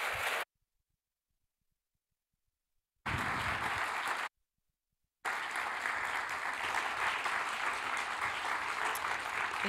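Warm audience applause fills a hall welcoming author RJ Palacio, broken by two brief silent gaps, then a steady, even wash of clapping continuing to the end.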